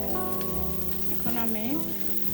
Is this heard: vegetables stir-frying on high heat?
yes